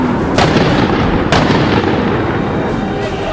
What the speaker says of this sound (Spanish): Esta cámara de un canal de televisión registró los disparos hacia el norte de la avenida.